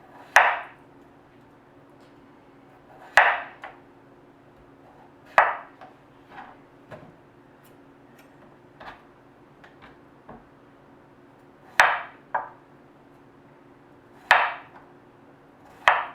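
Knife chopping potatoes into quarter-inch slices on a cutting board for a salted codfish and potato stew: sharp, distinct taps in irregular clusters with pauses between, close and clear against a quiet background.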